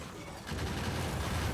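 Massed turrets firing at attacking biters in Factorio with the Warptorio 2 mod, a dense rapid rattle of gunfire that starts partway in and continues loud and steady without pause.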